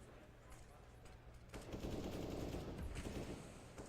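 Gunfire in Counter-Strike on the Mirage map during a pro tournament match, a rapid burst of automatic shots building up midway and continuing, fairly faint with caster voices underneath.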